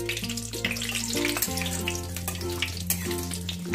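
Whole spices (cardamom, cloves, cinnamon and mace) fry in oil for chicken curry, a steady close sizzle under a bright hum of sustained tones.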